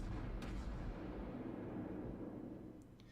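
Warship guns fire in World of Warships during a Tier V Murmansk cruiser battle, heavy low booms rolling out and fading, with a faint crack or two near the end.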